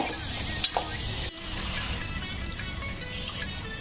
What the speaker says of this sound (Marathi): तर आता पावटा आणि बटाटा टाकूया ह्याच्यात. मिक्स करून घ्यायचं आहे छान.